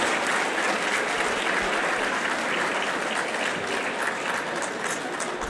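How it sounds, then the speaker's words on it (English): Audience applause fills a gala dinner hall at a 50th anniversary celebration, a steady, dense clapping from a large crowd that stays loud and even throughout, with no voices standing out. "Big, big round of applause."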